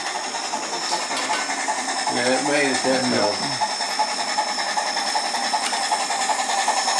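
A DCC-equipped model railroad steam locomotive plays its sound effects, a loud continuous hiss and chuffing that runs through the whole stretch, with a voice briefly over it.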